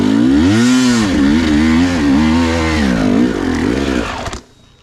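A 2020 Husqvarna TE 300i enduro motorcycle revving loud and close, its two-stroke engine pitch rising and falling through several throttle blips before cutting off abruptly.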